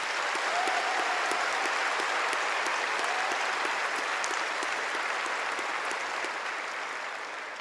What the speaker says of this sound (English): Join me in applauding our distinguished guests and faculty.